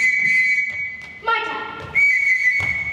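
A high school stage production of The Sound of Music, with a shrill signal whistle blown to call a child: sustained piercing tones with a warbling trill in the middle. Stage noise and faint voices run underneath.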